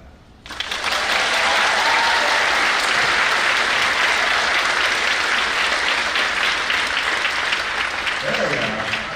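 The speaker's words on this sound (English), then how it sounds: "That's a lovely clap." An audience at a 2023 spring band concert bursts into loud, dense applause after a brief quiet opening, clapping steadily and close up with voices mixed into the crowd noise until the end.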